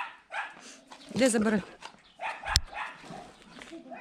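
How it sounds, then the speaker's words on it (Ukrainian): Dogs near horses bark in a short burst of yelps and barks, fairly close, while people talk over and around them throughout. "Та тут то всі пси гавкають на конь"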